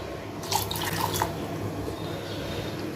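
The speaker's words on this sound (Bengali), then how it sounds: "এইটুকুন জল দিয়ে ভরে দিই" Water runs and splashes into a pressure cooker in a home kitchen, a steady close pouring wash with a few brief louder gurgles early on, no speech.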